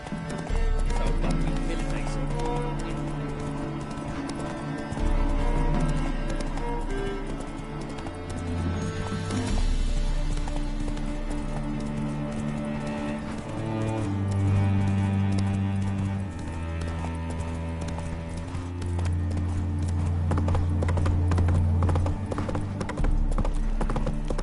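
Hooves of Roach, a horse in The Witcher video game, clip-clop in a steady galloping rhythm, with occasional whinnies, over loud continuous game music.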